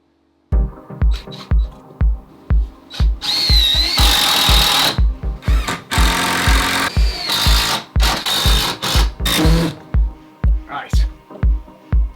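Power drill driving fixings into the top of a DIY garden bar wall frame to secure it to the ceiling, a run of short close bursts and longer whirring spells, with speech heard alongside.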